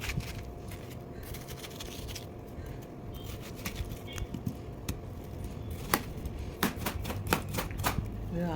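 A knife chops watermelon into medium pieces on a cutting board for blending into juice, giving quiet, irregular taps that grow sharper and more frequent toward the end.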